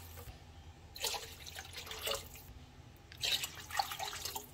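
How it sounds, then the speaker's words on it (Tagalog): Water is poured into a cooking pot in a home kitchen, two short splashing pours separated by a quiet pause, close and fairly soft. "Water."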